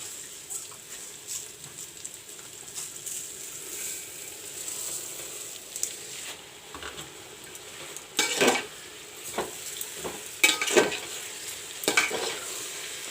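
Rice frying in a pan with potatoes and soya chunks, a steady soft sizzle with spoon scraping and stirring that grows louder and clatters more in bursts toward the end; no talking.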